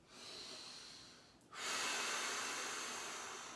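Slow deep breathing during a mobility exercise: a long airy inhale, a brief pause, then a louder, stronger breath close to the mic with no talking.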